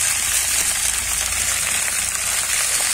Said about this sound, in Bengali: আগে একটু কিন্তু বরবটিটা ভেজে নেব।